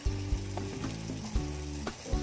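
Potato pieces fry steadily in hot oil for an omelette, a dense continuous sizzle with a few louder pops and stirring knocks, close and without voices.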